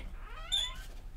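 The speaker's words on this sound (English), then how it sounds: "that is a cat trying to escape the room." A cat gives a single short, faint meow indoors while trying to get out of a room, heard alone against a quiet background.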